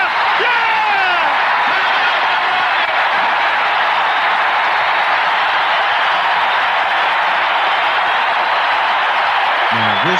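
An arena crowd roars and cheers after Michael Jordan's shot in a broadcast recording, a dense sustained wall of shouting and applause lasting the full stretch without letup, loud and close.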